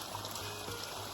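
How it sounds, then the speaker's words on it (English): A small waterfall at a trail water source pours with a soft, continuous rushing and trickling, faint and steady throughout with no talk. "it's a little waterfall like this"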